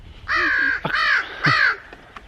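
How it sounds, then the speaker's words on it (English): A crow caws three times in quick succession, loud and close, with harsh drawn-out calls over a quiet outdoor background near a farm with forest nearby. "some bird flew by"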